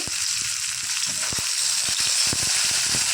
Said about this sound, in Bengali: চিংড়ি মাছগুলো হচ্ছে ভেজে নিচ্ছি